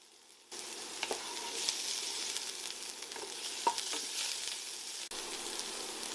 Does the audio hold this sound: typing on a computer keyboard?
no